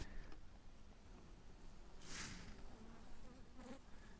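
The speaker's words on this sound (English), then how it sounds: "These bees are hungry. They're hungry for the syrup." Steady insect buzzing from many honeybees at a hive, with a brief louder swell as one passes close to the microphone midway.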